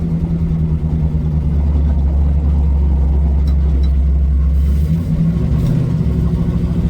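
A Plymouth Satellite, freshly fitted with new front suspension, accelerates on a test drive: a loud, close, deep engine rumble holds steady then shifts pitch near the end as the car changes speed, with no talking.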